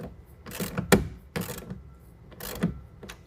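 Hand ratchet tightening a clamp on an Access Lorado soft roll-up tonneau cover on a 2015 Ford F-150, a series of sharp, close clicking bursts in an uneven rhythm with quiet gaps between.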